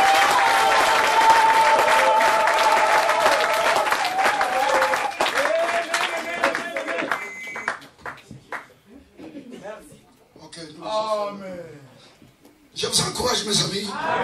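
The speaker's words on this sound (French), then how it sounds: "On va donner une acclamation." A church congregation claps and cheers loudly for several seconds during a French-language sermon, then the noise drops away into scattered voices and brief sounds before another short burst of crowd noise returns at the end.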